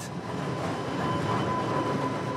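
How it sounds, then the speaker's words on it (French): Onboard a moving streetcar tram: a continuous rumbling rattle of wheels on rails and the car body, steady and close throughout, with a faint high tone running through it and no speech. "On est maintenant dans un streetcar par tramway"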